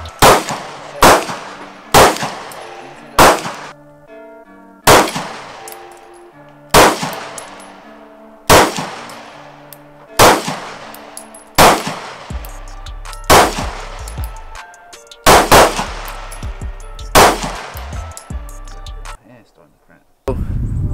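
Pistol gunshots from a Springfield Hellcat and Sig P365 during a shooting session, a long series of sharp, loud, close cracks fired singly and in quick pairs, with metallic ringing between shots.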